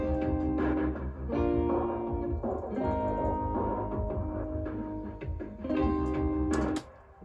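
Rock band mix with two electric guitars miked by an SM57 and a 421 and panned left and right, over drums and bass, a dense loud wall of chords and cymbals playing continuously.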